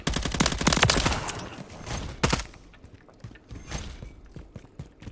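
Gunfire comes from an enemy camping above in Call of Duty Modern Warfare 3, with rapid bursts of automatic shots that fade into scattered, quieter cracks and mechanical clicks, with no talking.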